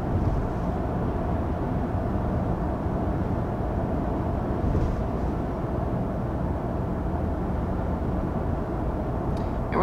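Cabin of a 2021 Ford Edge cruising at 55 mph, a steady broadband road and wind roar with low engine hum, constant throughout with no speech.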